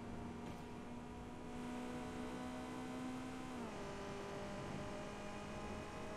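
Fast car in the video game Watch Dogs 2 driving with a steady high engine whine that drops in pitch partway through as it shifts, continuous and fairly loud, with no talking.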